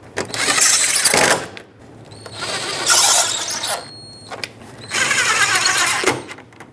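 Power drill tightens Torx screws on the front bumper of a 2010-2017 Chevrolet Equinox, three loud close whirring bursts with short pauses between them.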